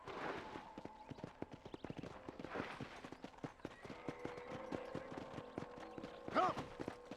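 Horse hooves clip-clop in a steady walking rhythm on a ranch in the video game Red Dead Redemption, moderately close, with a brief snort or whinny near the end.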